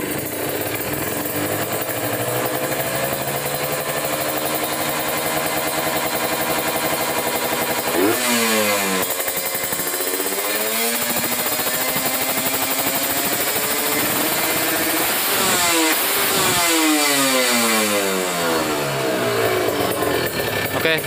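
A Kawasaki Ninja RR two-stroke motorcycle engine with a Mikuni carburetor, loud and close, idling and then revved sharply several times, the pitch climbing and falling in repeated sweeps throughout.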